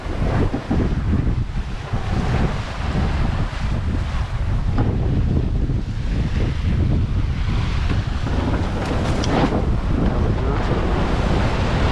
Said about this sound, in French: Le vent s'intensifie